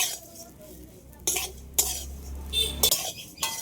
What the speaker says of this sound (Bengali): চিড়েগুলো দেওয়ার পরে এইভাবে খুন্তি দিয়ে নাড়তে হবে, নাহলে কিন্তু পুড়ে যেতে পারে